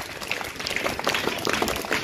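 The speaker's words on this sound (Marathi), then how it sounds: "एकदा या सर्व इको क्लबच्या सर्व मेंबरचं 3 टाळ्या वाजवून स्वागत करा" School students clapping together in welcome at an eco-club meeting, a busy, moderately loud patter of many hands.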